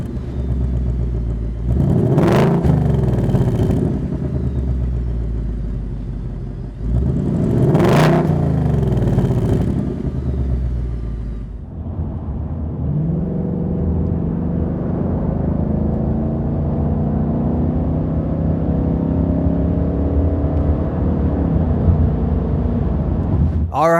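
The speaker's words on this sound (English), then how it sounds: "Let's go for a ride in the stock car." A stock 2018 Mustang GT exhaust heard from inside during a ride: two sharp, loud revving surges a few seconds apart, then a steady, deep droning rumble as the car cruises on.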